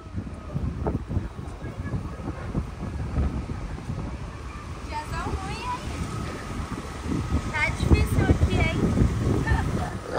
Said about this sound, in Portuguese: Nossa, que ventania.